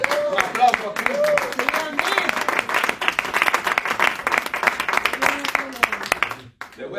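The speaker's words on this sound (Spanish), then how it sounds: "Un aplauso a Cristo." A church congregation at a Spanish-language sermon breaks into sustained, dense clapping that lasts several seconds and then tapers off, with voices rising over the applause.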